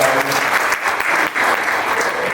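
Loud, sustained audience applause fills the room at a stand-up comedy event for World No Tobacco Day, a dense, even wash of clapping without pause.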